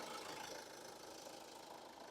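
A 2014 Kia Sorento engine idling with a steady low rumble and faint rhythmic knocking, quiet and constant throughout.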